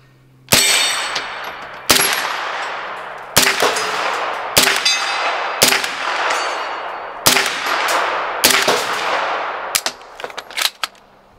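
An MP5 fires during a magazine test, with several loud, sharp single gunshots at uneven intervals, each ringing out with a metallic tail, close and without talk.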